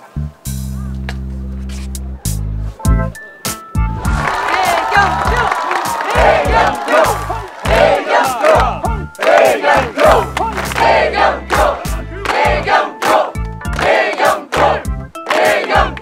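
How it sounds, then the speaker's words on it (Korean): A large crowd at a televised contest erupts in loud, sustained cheering, shouting and applause, rising in waves, with brief pauses and music stabs between bursts. "박수!"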